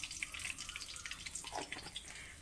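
Whole panch phoron five-spice seeds sizzle and crackle in hot oil, a faint, dense, continuous hiss with scattered tiny pops, close and alone.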